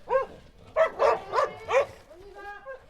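Several herding dogs give a run of quick, close barks in a burst while driving goats, with fainter goat bleats and murmuring behind them.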